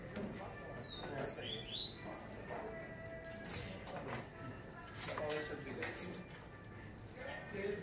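A small seedeater songbird gives a few quick, high chirps early on, close but brief, with general outdoor background noise and faint clattering afterward.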